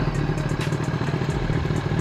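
A Yamaha R6 motorcycle engine idles close by with a rapid, uneven putter and light mechanical clatter, steady for the whole moment.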